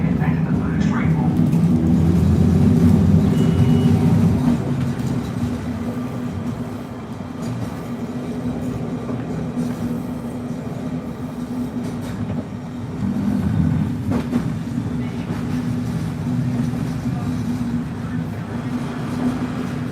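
Steady low rumble and rolling hum of a W8-class tram moving along rails in Melbourne, with a faint background voice in places and a continuous mechanical drone throughout.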